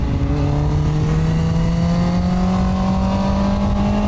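A QJMotor SRK 921 four-cylinder naked motorcycle engine revs up smoothly, its loud, close whine rising steadily in pitch over a few seconds with no talking.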